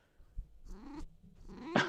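A grumpy pet cat makes short, low growling and grumbling noises, a few separate bursts with a louder final one, heard up close with no talk.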